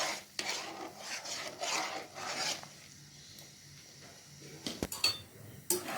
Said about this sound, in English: And give this a stir as usual.